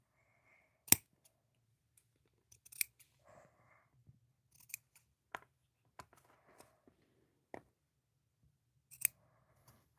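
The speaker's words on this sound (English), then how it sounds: "I'm using the light to help me place my snips." Paper is cut with snips in sparse, close, sharp crisp snips spread irregularly across the quiet, with faint small rustles between cuts.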